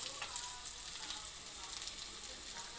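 Chopped onions and garlic fry in a pan with a steady, close sizzle and faint crackle that runs unbroken and even throughout, with no talking over it.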